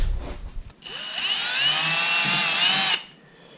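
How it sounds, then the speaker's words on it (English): A power drill whirs up and runs at a steady high pitch for about two seconds, then stops, with brief handling noise before it starts. "we're just going to take our drill bit now and just drill a hole right on the mark we made"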